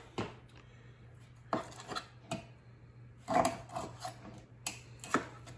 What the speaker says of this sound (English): we're going to cut up our sausage now